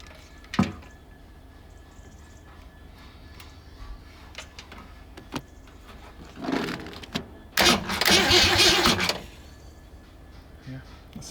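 A 1965 Ford Galaxie 500, abandoned for 20 years, cranks with its starter solenoid wired directly to the battery: faint clicks at first, then a short burst of cranking and a louder churning attempt to start.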